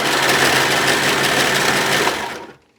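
A sewing machine stitches sundress fabric, its fast needle chatter running loud and steady at close range before stopping abruptly.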